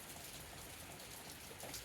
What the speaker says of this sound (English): I'm definitely thankful for the rain. I love rainstorms.